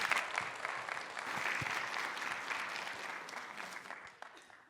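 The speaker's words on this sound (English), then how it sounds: "give them a round of applause" A student orientation audience breaks into a dense wash of applause that swells briefly and then tapers off, fairly distant and moderately quiet.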